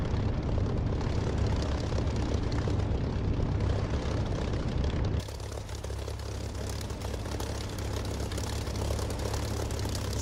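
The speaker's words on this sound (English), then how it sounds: "he's got some taxiing to do, but he's on his way. In fact, he's actually turned onto the runway at that point." A fixed-wing aircraft taxiing in the DCS flight simulator, its engine holding a steady, loud droning hum that drops slightly in level partway through and runs on without any talk.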